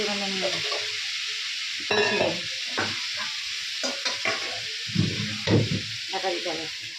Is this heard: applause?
no